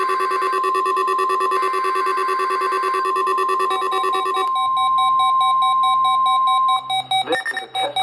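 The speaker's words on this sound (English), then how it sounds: "This is a test of the National Weather Service weather radio warning alarm" A National Weather Service weather radio alert sounds as a loud, steady electronic warning tone, first a multi-pitched pulsing beep pattern, then a single sustained high pitch that ends abruptly with a burst of broadcast noise.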